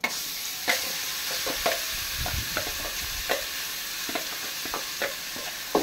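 Pulichi keerai (gongura) greens sautéing with ground spice powders in a pan, a continuous close hiss under repeated scraping stirs and light spoon knocks, with no voices.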